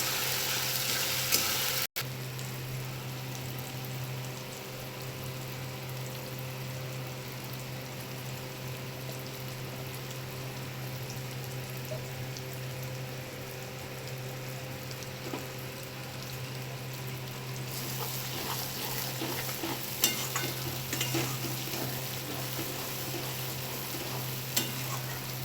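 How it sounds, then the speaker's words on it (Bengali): Ginger and garlic sizzle and fry in a pan in a village home kitchen, a steady hiss with occasional stirring scrapes, continuous and close with no talking. "আদা রসুনটা ভালো করে একটু কাঁচা গন্ধটা যতক্ষণ না যায় ততক্ষণ একটু ভালো করে ভেজে নেব।"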